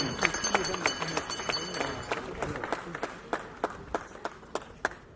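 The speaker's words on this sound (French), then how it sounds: "Est-ce que vous pouvez applaudir très très fort pour M. Marska Diombo à la vie?" An audience at a tribute gathering claps for M. Marska Diombo, a steady patter of hands with sharp individual claps standing out, under a murmur of voices.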